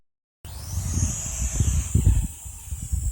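A Visuo XS809W toy drone's small electric motors whir up to a high, steady whine, with gusty wind rumbling and buffeting underneath, close and fairly loud.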